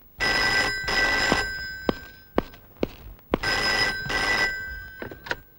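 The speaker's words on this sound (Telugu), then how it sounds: "అర నిమిషంలో ఆ ఫోన్ మోగుద్ది." A telephone bell rings in two loud, long bursts with brief pauses, and sharp knocks and clatters fall between the rings.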